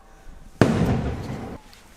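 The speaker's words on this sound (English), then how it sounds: "Just the usual friendly fireworks before breakfast." A firework bursts in the morning with a sudden sharp bang and a crackling rumble that lasts about a second before fading, loud against quiet background noise.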